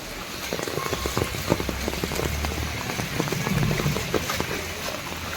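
Heavy monsoon rain pours onto surfaces in Thrissur, Kerala, a dense continuous hiss and patter of drops, steady and close, with no voices.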